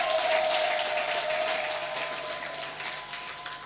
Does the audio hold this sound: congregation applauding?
yes